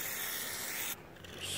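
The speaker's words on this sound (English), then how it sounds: "I'm gonna spray it inside," A close, steady spray of aerosol carburetor cleaner hisses for about a second into a 9.8/9.9 HP four-stroke outboard engine carburetor, stops briefly, then a short final burst follows.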